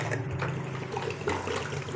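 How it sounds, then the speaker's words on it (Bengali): Water poured into a pressure cooker holding moong dal with turmeric and salt, a steady splashing, trickling pour lasting throughout, close and moderately loud with no talk. "পরিমাণ মতো জল দিয়ে দিলাম।"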